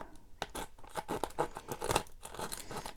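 Scissors snipping and tearing through the back of a shabby paper craft tag, a quick run of crisp cuts and rustles, close and fairly quiet with no talk.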